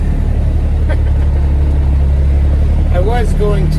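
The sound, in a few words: classic Peterbilt truck engine roaring through loud stacks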